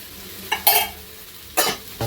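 Veg biryani masala with chili powder and turmeric frying in a pan: a low sizzle broken by a few short, bright scraping bursts of a spoon against the pot, fairly close.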